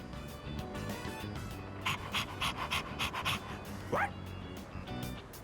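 Koromaru, the dog in Persona 3 Reload, pants in a quick rhythmic run of short breaths at close range, ending with a brief whimpering yip over a soft game music background.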